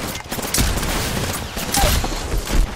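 Flatline assault rifle fire in the Apex Legends video game crackles in loud, rapid bursts under a dense mix of in-game noise, with short gaps between volleys.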